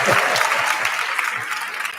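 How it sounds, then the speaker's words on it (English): An audience bursts into applause at a quilt event, dense steady clapping filling the short moment with no voice over it. "Would you please give her a round of applause?"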